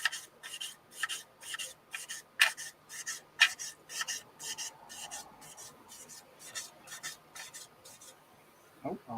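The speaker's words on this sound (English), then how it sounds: "Oh, I've sanded it that much." Rhythmic back-and-forth hand sanding of wood on a Thunderbird 2 model build, evenly spaced raspy strokes, close and fairly quiet, ending with a short handling noise.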